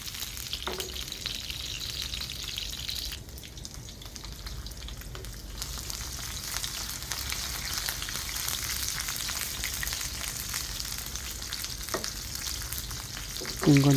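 Oil fries in a pan with a continuous, even sizzle that lasts throughout, mid-level and close, with faint occasional clinks near the end.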